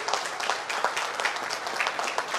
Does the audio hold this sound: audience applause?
yes